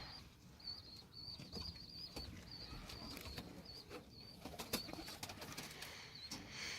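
Tumbler pigeons cooing softly in a loft, with intermittent bursts of wing flapping and clattering, fairly quiet and close, with scattered small knocks and rustles between the calls.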